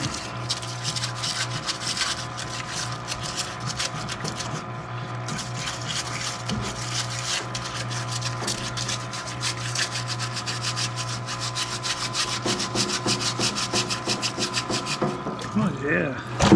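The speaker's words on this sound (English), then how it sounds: "Scrub-a-dub-dub, scrubbing up the heads." Iroc-Z cylinder heads are scrubbed by hand with a brush, a continuous close rhythmic scratching and wet rubbing with a faint steady hum beneath, ending in a clatter.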